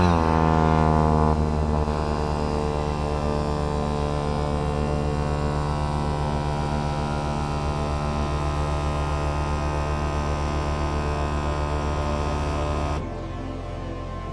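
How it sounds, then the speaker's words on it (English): A Ride Engine Air Box Mini electric pump runs steadily at close range, giving a loud continuous motor hum with a droning tone for about thirteen seconds. It stops abruptly near the end, leaving a quieter hum. "will start with a low pressure but high output engine first, and then automatically swap to the high pressure but with lesser output engine"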